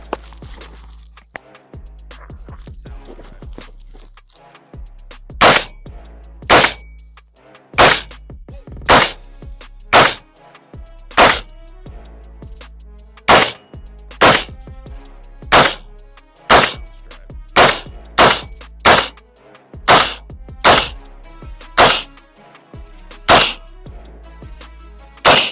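Gunshots hitting a self-healing shooting target, sharp loud cracks fired one at a time at an uneven pace, over twenty shots with quiet gaps between them.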